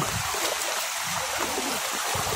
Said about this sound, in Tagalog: patuloy po nataas ang ilog